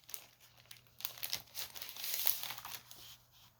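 Oxidized Copper paper for a fold card is handled and crinkled close by, with light papery rustles swelling to a busier crumple near the middle, then settling.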